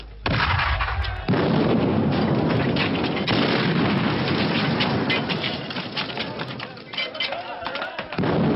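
Heavy artillery booms in rapid succession, loud and close, with sharp cracks of gunfire and shouted Russian voices mixed through the din, from a 1937 Soviet film.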